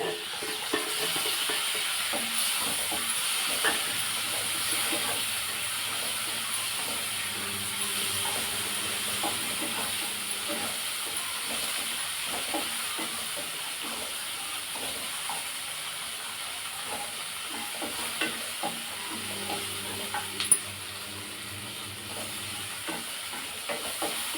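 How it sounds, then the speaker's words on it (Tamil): Tomatoes and onions sauté in a pan for chilli chapati, giving a steady, soft sizzle and hiss with faint stirring clicks throughout and no talk. "தக்காளி வதங்கட்டும். ஒரு 5 நிமிஷம் சிம்மில் வச்சுக்கலாம்."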